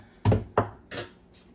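A spoon picked up from among kitchen dishes while making bean and cheese burritos, heard as three or four sharp, close clinks and knocks spaced a fraction of a second apart.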